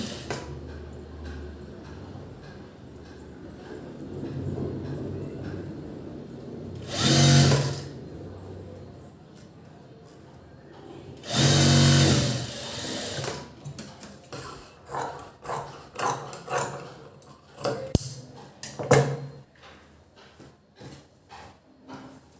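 A sewing machine stitches the seams of a princess-cut blouse, with bursts of fast whirring at first and then many short stop-start runs of stitching between quiet pauses.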